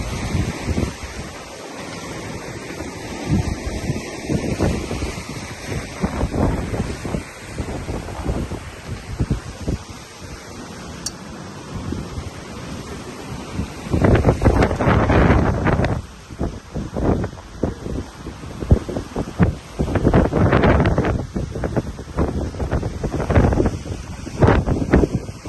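Wind gusts and breaking water surge around a sailing boat in Fish Egg Inlet, a rushing, uneven wash that swells and fades with the waves, fairly loud and close with buffeting across the microphone.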